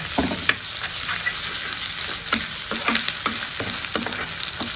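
Chicken pieces coated in turmeric, salt and chili fry in a pan over ginger-garlic paste, giving a loud hiss with repeated stirring scrapes and spatula clacks at close range.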